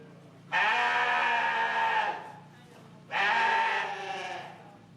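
Two loud, drawn-out sheep bleats ring out at a 4H sheep show in Freeborn County, each lasting about a second and a half, close by over a low background murmur.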